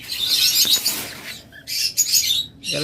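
Albino red-eye lovebirds give bursts of loud, close, high-pitched chirps and squawks in overlapping rapid runs, with brief pauses between flurries and no talking.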